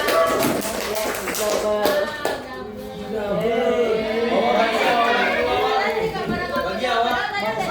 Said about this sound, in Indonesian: tepuk tangan dulu dong buat Rowan